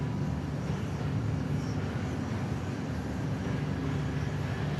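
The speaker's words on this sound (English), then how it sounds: "as we check out this next departure" An airliner departing Dallas Love Field produces a steady, distant broadband jet roar that holds evenly throughout, with no voices.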